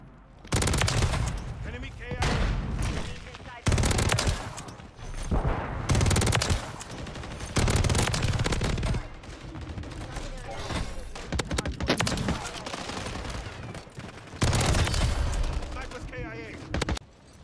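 Call of Duty Warzone 2.0 gunfire crackles in loud repeated bursts of automatic fire, separated by short pauses, with a voice talking at times over the shooting.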